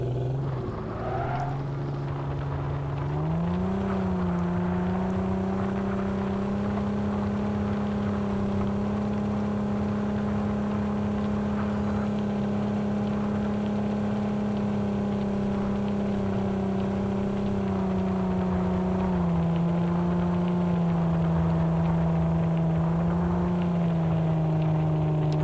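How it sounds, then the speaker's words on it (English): A car drives in Ring of Elysium with a steady, loud engine drone that climbs in pitch around the fourth second, holds through a long stretch, then drops slightly near the end. No one speaks. "Putting the car to the test."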